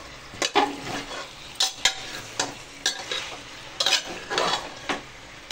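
Chicken is stirred with oil and onions in a pressure cooker over medium heat, giving repeated rhythmic scraping strokes of a spoon against the metal base over a soft, constant sizzle.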